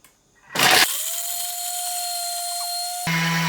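A Thermomix TM6 grates parmesan cheese with a loud, high-pitched whine that holds steady for a few seconds after a harsh burst at the start. It shifts pitch near the end, with no talking.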